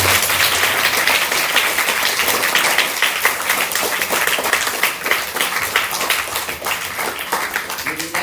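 Steady, sustained applause from a church gathering at St. Joseph's Church in Vellangallur, dense clapping filling the hall throughout with no break.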